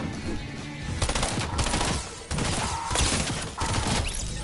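Burst SMG fire in Fortnite, loud rapid volleys in repeated short bursts with brief gaps between them, running continuously and dominating the mix.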